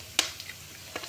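Shallots, ginger, curry leaves and green chilli are sautéed in oil for a pepper chicken roast, with two quick stirring scrapes over a faint sizzle.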